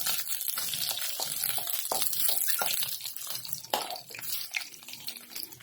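Gongura and drumsticks (munakkaya) pieces sizzling in hot oil on a stove for a pickle, a steady crackling hiss with sharper pops throughout, loud and close.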